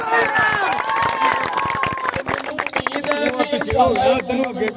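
A crowd at a village cricket tournament claps and cheers continuously, dense applause with scattered shouts and close voices talking over it throughout.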